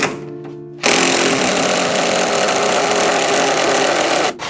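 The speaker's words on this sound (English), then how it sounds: "So I'm gonna get my little electric impact." Electric impact wrench working on the front suspension of a Ford Pinto, a loud continuous rattling buzz that starts abruptly after a brief quieter hum and runs steadily for several seconds before cutting off.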